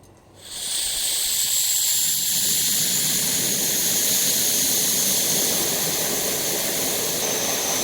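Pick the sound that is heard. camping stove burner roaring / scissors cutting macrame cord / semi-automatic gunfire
camping stove burner roaring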